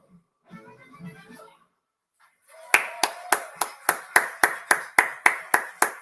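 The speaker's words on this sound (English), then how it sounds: "I love the people clapping in the audience." A festival audience claps along in a steady, loud rhythmic beat, about a dozen sharp unison claps after a brief faint murmur of voices.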